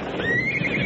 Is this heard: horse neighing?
yes